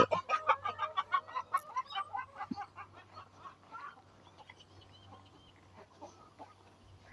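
Chickens cluck in a farm coop, with a quick run of loud, rhythmic clucks up close that then thin out into softer, scattered calls.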